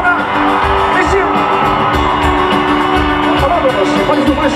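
A dense concert crowd at a show in Ilhabela roars, whoops and shouts continuously, a loud, steady wall of cheering voices filling the whole stretch.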